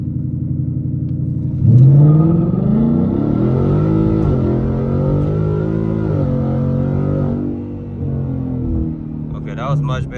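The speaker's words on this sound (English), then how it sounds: "Let's rev it up to a little over 1000 RPM, just in case we spin out." A Ford Mustang GT with a 10-speed transmission idles, then revs and launches hard, a loud, close engine roar rising and climbing through the gears before it settles and fades, with a voice speaking briefly at the end.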